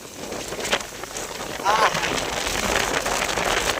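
Strong wind gusting outdoors on a cluster bean and cotton farm during rainy weather, a steady broadband roar with microphone buffeting that swells toward the end, people talking faintly underneath.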